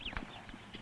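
Horses are heard with soft, uneven hoof clip-clops and a faint high whinny-like call, distant and quiet over a hazy background.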